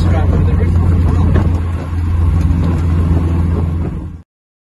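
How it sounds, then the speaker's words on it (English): A 1966 MG Midget sports car driving roof-off in third gear at about 45 mph gives a steady, loud engine drone with road and wind noise, dipping briefly before cutting off abruptly. "Third gear pulling really well. We're up to 45 miles an hour."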